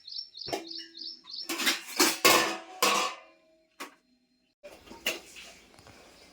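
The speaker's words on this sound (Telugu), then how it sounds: "గిన్నెలు రుద్దేసి ఇలా బోర్లిచ్చుకోవాలంటే" Several sharp clinks and clatters of washed metal dishes being stacked upside down one after another, with brief pauses and faint chirping at the start.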